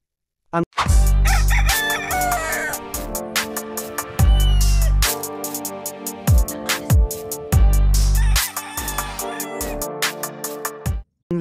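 Several loud crows in a row from a Salmon gamecock rooster, each a long cock-a-doodle-doo close by, with short gaps and a busy mix of other sounds between.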